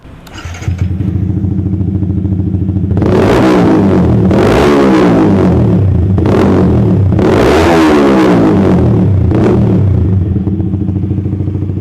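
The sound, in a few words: motorcycle stainless exhaust revving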